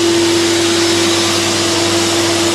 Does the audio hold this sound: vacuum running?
yes